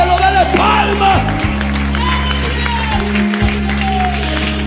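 A church congregation claps during lively worship, loud continuous applause blending with music and voices throughout.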